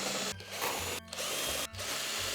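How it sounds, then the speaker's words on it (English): A power drill bores through a cardboard template in three loud, sustained whirring bursts, each cut off by a short pause, with the motor pitch wavering as the bit spins. "That's right, I can drill cardboard."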